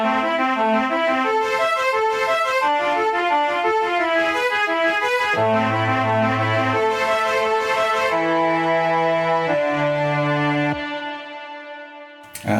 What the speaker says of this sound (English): you've got this little kind of viola